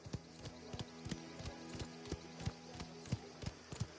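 Horse hooves clip-clop at a steady walking pace in the video game Mafia: The Old Country, each hoof fall a distinct knock over a faint background hum.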